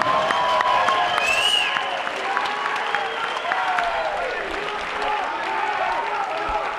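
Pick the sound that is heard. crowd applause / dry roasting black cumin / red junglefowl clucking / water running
crowd applause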